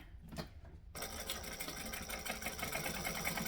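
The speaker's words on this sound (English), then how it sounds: "Now to hold it in place before I put the binding on, I am just going to stitch over it." A sewing machine stitches over fabric to hold it in place before binding, starting after a near-silent second and then running in a steady, close, rapid whirring hum to the end, with no voices.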